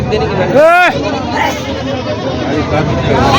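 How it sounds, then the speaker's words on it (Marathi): A single goat lets out a loud, wavering bleat close by at an open-air weekly goat market in Vasmat, Hingoli district, over a constant babble of crowd voices and chatter. "ठिकाणी मित्रांनो बकरी आहेत आणि पलीकड साईडला शेळी आहेत"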